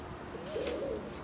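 A single soft, low pigeon coo rises and falls briefly against quiet background noise.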